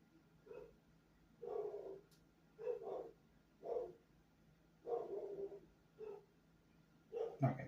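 Dogs barking at a distance, a series of about eight short barks and bark pairs spaced irregularly, faint over a quiet room hum.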